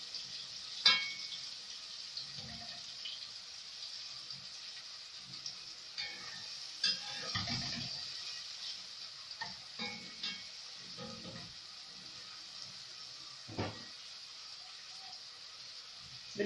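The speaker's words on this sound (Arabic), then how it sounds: "بنقلب طبعا البصل شويه لحد لونه ما يبقى كويس معانا." Onions frying in a pan, a soft steady sizzle running throughout with occasional scraping and clicking knocks as they are stirred, faint and close, with a few quiet bits of speech.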